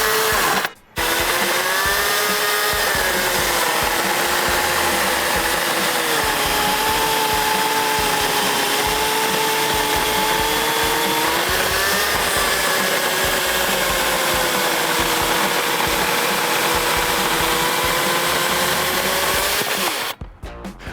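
A chainsaw runs continuously while cutting through a thick log, its engine whine rising and falling in pitch as the bar is levered down and up through the wood, loud and close, with a brief break near the start.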